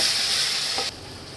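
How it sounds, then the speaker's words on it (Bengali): Spiced masala and meat fry with potatoes and bay leaves in a pan, a loud close sizzling hiss that drops abruptly in level partway through, with no talking. "এই আলু করে এটা কষিয়ে নিই।"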